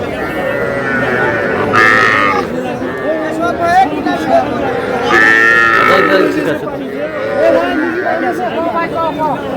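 Crowd chatter and talking fill a busy outdoor livestock market selling young bulls and heifer calves, with cattle lowing and grunting at intervals among the voices.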